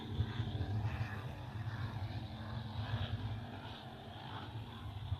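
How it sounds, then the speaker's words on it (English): 700-horsepower carburetted V8 big-block engines power race boats at Wyndham Harbour, a continuous distant droning roar held steady throughout. "Those big 700 horsepower carburetted V8 big blocks sounding absolutely beautiful"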